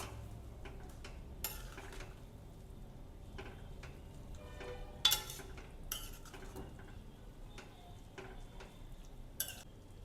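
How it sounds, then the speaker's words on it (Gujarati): Utensil scraping and clinking against a pan while masala Maggi noodles are stirred and mixed, a run of light irregular metallic taps and scrapes, fairly quiet, with no speech. "હવે આપણે ઢાંકણ ખોલીને મેગીને મિક્સ કરી લઈશું"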